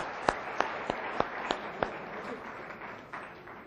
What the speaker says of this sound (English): Can we clap for Mr. Asim?